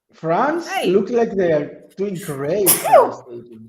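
A short, sharp sneeze breaks out amid nearly continuous close conversation among people watching a semi-final dress rehearsal.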